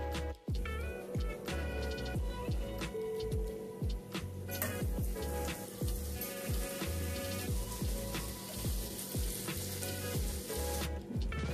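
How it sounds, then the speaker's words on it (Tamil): Butter heating in a hot frying pan in a home kitchen, sizzling and crackling steadily throughout with faint ticking pops, no talking. "பட்டர் சூடாச்சுங்க"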